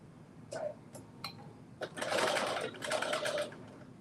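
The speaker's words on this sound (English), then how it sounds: "I'm going to just do that basting stitch right here." A domestic sewing machine runs a basting stitch in short bursts, a few brief taps and then a steadier run of stitching, moderately close and fairly quiet against a low background hum.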